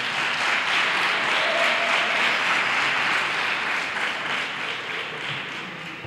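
Audience applauding a Christmas carol choir, the Coro de Campanilleros de las Nieves, at a Three Kings coronation event in El Trobal; a steady wash of clapping from a crowd, fairly loud and sustained, easing slightly toward the end.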